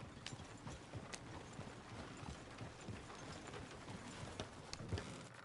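Horse hooves clip-clop in Red Dead Redemption 2, a steady walking rhythm of soft thuds, fairly faint, with light mechanical clicks mixed in.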